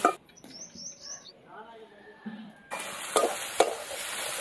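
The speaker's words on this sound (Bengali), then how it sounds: "কুচানো পেঁয়াজ, লবণ, পেঁয়াজটাকে ভালো করে একদম লাল করে ভেজে নেবো" Chopped onions with salt hit hot oil already seasoned with cumin, bay leaf and dried chili, and a bright sizzle bursts in near the end after quieter clinks and stirring, close and fairly loud.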